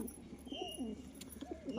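Pigeons coo in soft, rolling, repeated calls close by, over faint background noise.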